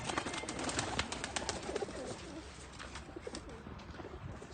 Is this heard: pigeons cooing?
yes